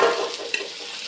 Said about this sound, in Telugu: ఫ్రై చేసుకుందాం పచ్చివాసం పోయేంత వరకు అయితే ఫ్రై చేసుకుందాం